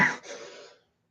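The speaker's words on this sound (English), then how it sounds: "Sorry guys, smoker's cough." Single harsh smoker's cough from an adult, close and sharp at first, then trailing into a rough rasp that fades within a second, with no talk over it.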